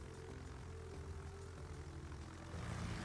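Rocket-armed carrier planes drone in World of Warships, a faint, steady propeller-engine hum that swells slightly toward the end, heard alone without talk.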